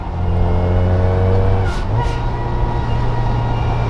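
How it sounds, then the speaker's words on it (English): Loud engine drone from a supercharged widebody Mazda MX5 MK2, steady harmonics then a quick pitch drop and pops around a downshift before settling into a lower, continuous rumble, close and unbroken. "just the downshifts. You don't even have to do anything else, just downshift"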